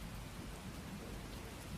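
Steady rain pouring down with low rumbling thunder underneath, a dense, continuous wash of sound at even loudness throughout.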